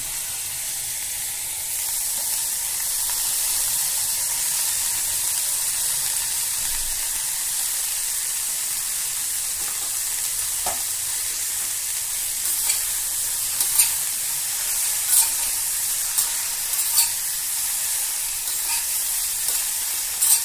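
Chopped onion frying in mustard oil gives a steady, even sizzle with a bright hiss that holds for the whole stretch, broken by a few faint clicks and stirring scrapes near the end.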